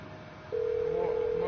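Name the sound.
phone call being dialed in video game GTA V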